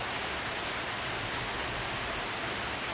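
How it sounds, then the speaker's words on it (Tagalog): Heavy rain pours down as a dense, unbroken hiss, loud and constant throughout with no voices. "Lakas ulan, guys, na."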